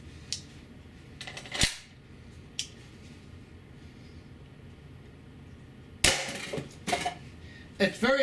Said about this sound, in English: I'll show you a demonstration with the GXG Z-Balls as a comparison.